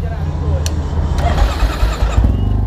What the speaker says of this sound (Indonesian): Coba nyalain motor lo dengan satu jari